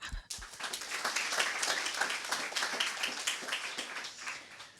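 A conference audience at a horticulture live stream applauds, a dense burst of many hands clapping that starts abruptly and carries on steadily, fairly faint in the room.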